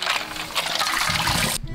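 Water pouring over coal crystals in a metal bowl, a loud rushing splash that runs steadily then cuts off abruptly near the end.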